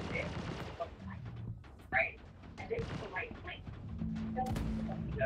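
Turret gunfire in the Star Citizen space game, a mix of dull thuds and bursts that build into steady rumbling fire near the end, over a dense background of game noise.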